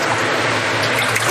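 Cooked Korean sweet potato vermicelli is rinsed under cold running water, a steady, close rush of tap water splashing continuously without any voices.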